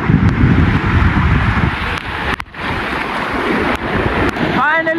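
Bahubali waterfall near Sudhagad Pali roars as a steady, loud broadband wash of falling water throughout, with wind buffeting the microphone and a brief dip midway.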